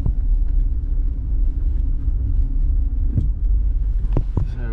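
A modified car drives across beach sand, its engine giving a steady low rumble that stays loud and continuous, with a couple of brief sharp knocks near the end.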